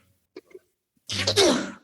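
A single sharp sneeze bursts out near the mic after a brief pause, preceded by a couple of faint, short vocal sounds in an otherwise quiet room.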